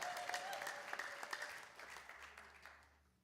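A church congregation at an evening worship service claps together, brisk applause heard at a distance that gradually fades away.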